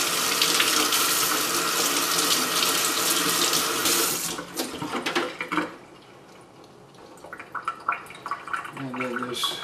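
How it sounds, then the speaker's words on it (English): Tap water runs strongly from a faucet into a sink while a Bissell rug carpet cleaner part is rinsed off, a steady loud gush for about four seconds, then broken splashing and trickling with brief clatter as the flow is cut and restarted. "So I'll rinse it off."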